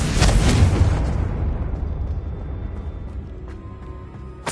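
A Confringo blasting spell detonates in Hogwarts Legacy near a witch's sarcophagus, a loud booming explosion up front that rumbles and slowly fades, followed by faint chiming tones.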